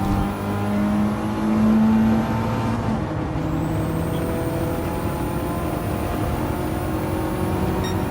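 A race car in Gran Turismo 7 roars through a loud sustained engine note that dips as it downshifts for a corner, then holds a steady drone with no talking.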